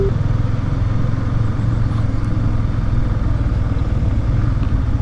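Motorcycle engine running steadily at close range, a dense low rumble with constant clatter and no clear rev swings across the whole stretch, with no voices over it.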